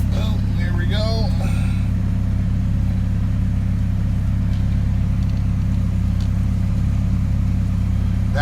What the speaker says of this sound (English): It idled down and idled right back up.